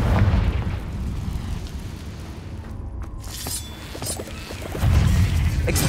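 A Confringo fire spell blasts in Hogwarts Legacy, a heavy booming explosion with crackling debris that swells again toward the end.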